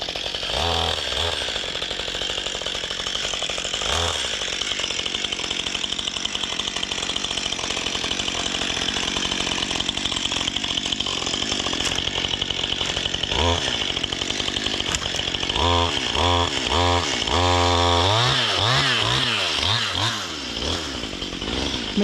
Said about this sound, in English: Methinks me chainsaw needs a tune-up.